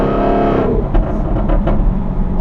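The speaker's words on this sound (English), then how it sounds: "I hope you guys can hear the exhaust" Car exhaust revs hard then settles into a deep rumbling idle, loud and close, with a few sharp crackles and pops; the car is the speaker's dad's car.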